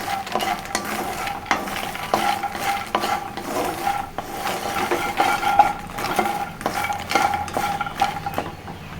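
A spoon stirs makhana (lotus seed) masala curry in a pan, scraping and clinking in steady repeated strokes over a soft sizzle of frying, close and moderately loud with no talking.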